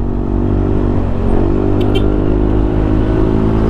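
A Yamaha NMAX V2 scooter accelerating to overtake on a cold mountain road in Benguet, its engine droning loud and close with a steady rising hum and rushing wind, no talking.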